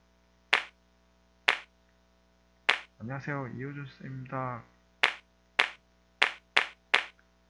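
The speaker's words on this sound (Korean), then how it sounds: "이렇게 바꿔볼까요? 박수를 해볼까요?" Sampled clap sounds triggered in Scratch, a programming environment: three sharp, evenly spaced claps before someone speaks briefly, then a faster run of five or six claps afterward, loud and close.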